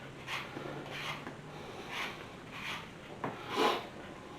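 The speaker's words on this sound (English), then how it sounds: "you want to peel these apples. Get any kind of apple peeler. I'm going to use this one today." A handheld apple peeler scrapes across apples for homemade applesauce, giving soft, rhythmic rasping strokes about every half second, close and quiet with no talking.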